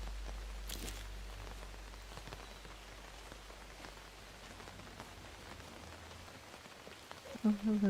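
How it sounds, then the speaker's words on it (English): Steady rain pattering on surfaces in the fantasy game Book of Travels, a dense even hiss with scattered drops, softening slightly near the end. "Here, it's raining."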